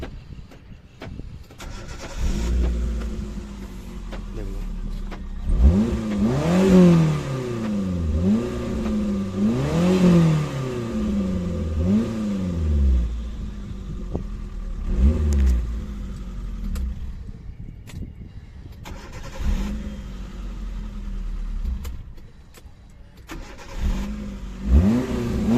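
A Hyundai Santro Xing car fitted with a new fuel pump motor starts on a single crank and revs repeatedly, the engine rising and falling in several strong surges before settling to idle and revving again, close and loud.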